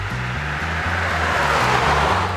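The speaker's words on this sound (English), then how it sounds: "once you do reach cruising speed, the six-cylinder engine is very quiet" A 1954 Kaiser Special six-cylinder engine cruising at speed, heard as a steady, smooth low hum with a faint rhythmic pulse beneath broad road and wind rush, continuous throughout.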